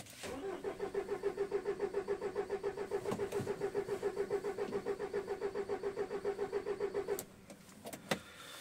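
A Vauxhall Vivaro van, with air in its fuel filter, cranks in a quick, even, rhythmic churn for about seven seconds, then catches and settles into a low idle, with a few sharp knocks near the end.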